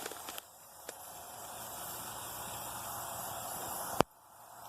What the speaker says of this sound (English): we're just going to go ahead and quick spray paint this the end of this log green